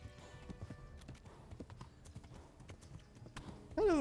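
A horse runs in Kingdom Come: Deliverance, its hooves clip-clopping in a rapid, uneven rhythm close by, ending with a loud neigh.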